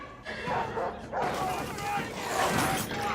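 Dogs in a TV series yipping and barking in short bursts, mixed with whimpers, while people talk excitedly over them.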